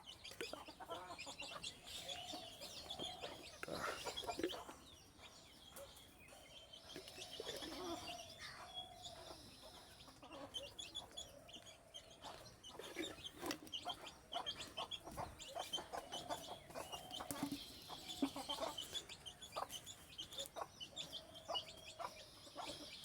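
A native-breed hen clucks softly and intermittently, with other fowl and bird sounds nearby in a quiet setting on a poultry farm; no talking.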